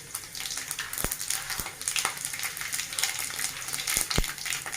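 Fenugreek, cumin and mustard seeds tempering in hot oil in a pan for drumstick sambar, with ginger and garlic, a steady close sizzle broken by sharp pops and spoon clinks.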